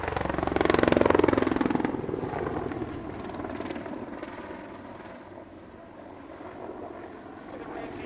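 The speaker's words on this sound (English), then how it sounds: "you'll see the Apache running back in from the left" An Apache attack helicopter running in at an air show, a rotor thump and engine whine peaking loud in the first two seconds, then settling into a fainter distant drone.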